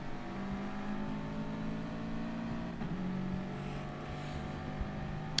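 Group 4 Subaru race car engine in a racing video game, heard on board at the Sardinia circuit: a steady, droning engine note with shifting harmonic whine, loud and continuous with no talking.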